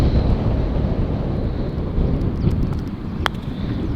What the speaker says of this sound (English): That wind's just starting to pick up as well, isn't it?